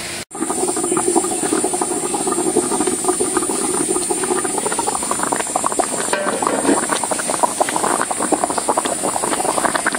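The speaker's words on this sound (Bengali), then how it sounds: "এই যে যেভাবে বলক পাড়তেছে, 10-15 মিনিট রাখবো" Tengra fish bhapa with ground masala boiling hard in a pot on the stove, a steady close hiss and bubbling rumble that runs on without a break.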